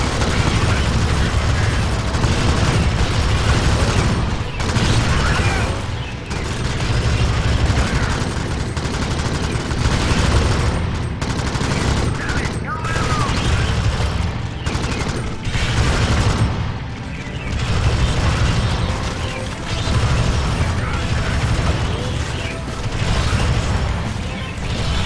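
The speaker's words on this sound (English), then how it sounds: "That turret does some work." An automated turret in the Alien Swarm game fires nonstop, a loud, dense, relentless barrage with brief dips, holding for the full stretch with chaotic battle noise around it.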